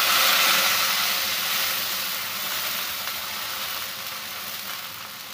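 Water hits hot dhokla tempering with a loud, bright hissing sizzle that starts strong and slowly fades to a steady steamy crackle, up close with no talk.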